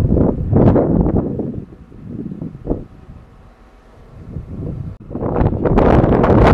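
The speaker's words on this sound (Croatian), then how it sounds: "malo je vjetar, malo puše" Gusty wind buffets the microphone outdoors beside a new Rosenbauer HLF 20 fire engine, with loud rumbling gusts at the start and end and a calmer lull in between; no one speaks.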